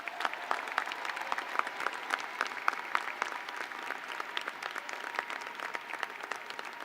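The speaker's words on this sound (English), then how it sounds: "Please join me in showing our appreciation with a round of applause for their efforts." Commencement ceremony audience gives a round of applause, many hands clapping in a steady, even patter that sounds somewhat distant in a large hall, with no voices over it.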